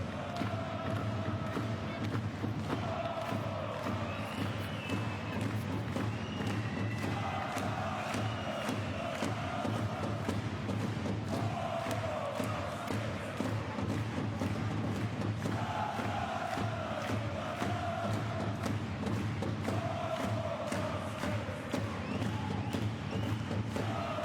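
Basketball fans of Telekom Baskets Bonn cheer and applaud in an arena after their team's win over Besiktas, a steady loud crowd roar with rhythmic clapping and rising chants across the whole stretch.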